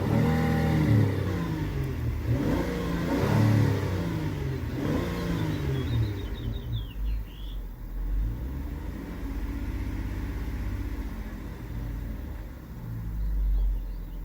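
A 2023 Honda Odyssey Touring's 3.5 liter J35Y6 V6 with VTEC and VCM revs up repeatedly toward its 5,000 RPM limiter, rising and falling engine bursts close to the microphone, then settling into a lower idle rumble.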